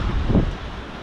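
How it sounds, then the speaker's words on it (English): A strong wind gust from Hurricane Debby roars steadily against the microphone outdoors, a dense low rumble that swells briefly and then eases slightly, with no voices heard. "we are getting some pretty strong winds. Comes another gust."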